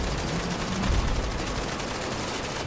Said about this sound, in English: Machine gun at me.